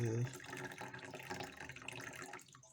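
Water pours from a Contigo 1.2-litre thermos in a quiet, steady trickling stream. A brief voice is heard at the start.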